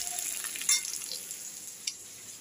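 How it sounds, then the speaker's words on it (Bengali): Onion and dried red chilli frying in a home-kitchen pan, a steady close sizzle with brief stirring clatters, alone without voices. "ডালে ফোড়ন দেবো বলে পেঁয়াজ আর শুকনো লঙ্কাটা ভাজছি।"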